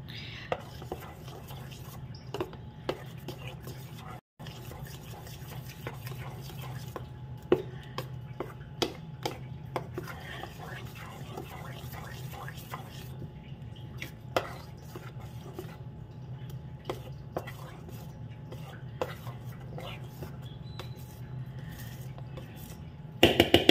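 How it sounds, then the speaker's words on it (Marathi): Two ground idli batters being stirred together in a bowl, a steady soft wet churning with frequent clinks of a spoon against the bowl, close and continuous with no talking. "आता आपण दोन्ही जी पिठं वाटून घेतलेली आहे ती छान मिक्स करून घेऊया"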